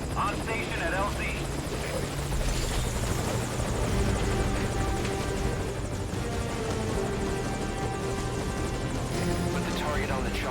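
Helicopter rotor and engine drone from Metal Gear Solid V, a steady loud thrum that holds through the whole stretch with radio voices talking over it.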